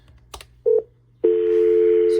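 A modem on a FreePBX PSTN line gives a brief keypad beep and short tone, then a loud, steady telephone dial tone that holds to the end.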